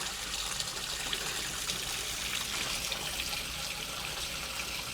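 A steady stream of water trickles and splashes into a temple pond along the stairway up to Simhachalam temple, a soft continuous flow heard alone at low level.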